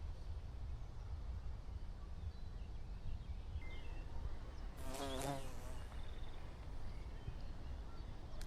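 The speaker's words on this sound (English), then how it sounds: "And they love it up here, the bees." Bees buzz outdoors in a steady faint hum over quiet background noise, with one nearer bee passing close for about a second.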